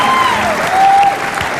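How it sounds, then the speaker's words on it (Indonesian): Applause from a studio audience on an Indonesian television talk show, a loud continuous clapping wash with a sustained tonal whistle-like sound gliding over it. "Tepuk tangan tuh Pak Wito."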